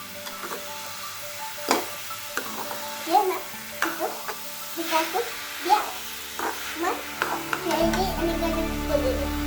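Grated coconut frying on low heat as its moisture cooks off, with a soft sizzle beneath repeated scraping strokes of a spatula and a few faint voices nearby.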